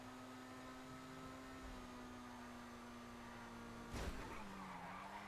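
Tires of the Annis RE-7B race car squeal in a long continuous skid in the video game GTA Online, over a constant engine tone, with a brief bump near the end.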